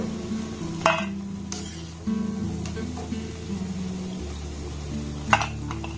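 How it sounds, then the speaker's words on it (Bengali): Fried sweets made from flour and semolina being lifted out of hot oil and drained, with a soft continuous sizzle, gentle stirring and a few sharp metallic clinks of a utensil against the pan. "এবার এগুলোকে আমি উঠিয়ে নেব। এইভাবে তেলটাকে খুব ভালোভাবে ঝরিয়ে নেব।"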